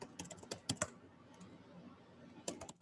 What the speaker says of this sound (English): I'm just gonna keep typing in rock because it's the shortest word to type